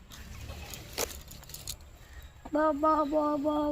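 Quiet rustling and a few sharp clicks, then a nearby chicken gives a clear run of short, repeated clucking calls.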